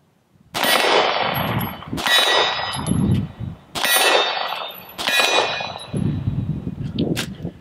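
Quarter-size steel targets at about 15 yards ring out with sharp metallic clangs as bullets strike, five loud pings spaced roughly a second apart, each with a bright lingering ring.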